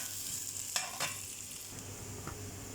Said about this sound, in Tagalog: ginigisa ko na yung bawang